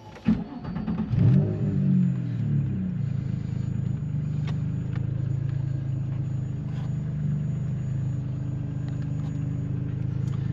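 Turbocharged Nissan 350Z engine cranks and fires up with a loud rev burst, then settles into a steady, close, rumbling idle that holds for the rest of the time.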